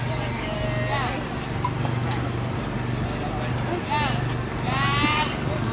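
Sheep bleat at a shepherd's sheepdog trial at a Mallorca fair, a few short bleats rising over a busy outdoor crowd, with hoof clip-clop and people talking throughout.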